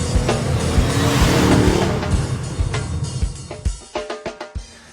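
A 2011 Ford Mustang 5.0 GT fitted with a ProCharger supercharger, with a loud, close engine roar and tire noise that settle into a string of sharp, rhythmic bursts toward the end.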